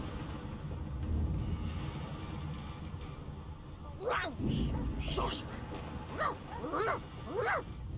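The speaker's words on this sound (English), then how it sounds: "The dog whines and continues pawing at its nose." A dog in the video game Divinity: Original Sin 2 whines in several short, high, yipping bursts over low background noise, while a voice speaks nearby.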